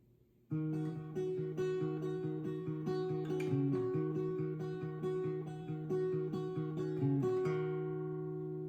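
A guitar plays the short, lively intro riff of a song, repeated strummed chords with a few quick changes, clear and continuous with no talking.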